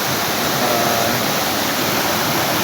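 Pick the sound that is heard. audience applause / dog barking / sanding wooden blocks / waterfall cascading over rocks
waterfall cascading over rocks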